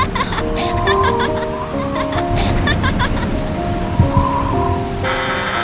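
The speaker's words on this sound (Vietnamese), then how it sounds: "mưa dầm dề thế này thì mình biết đi đâu kiếm cái ăn bây giờ" Heavy rain in an animated Vietnamese fairy-tale cartoon, a steady dense downpour hissing throughout with tonal background sounds woven through it.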